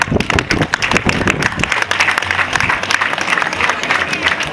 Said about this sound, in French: nous demandons des applaudissements pour ces chers partenaires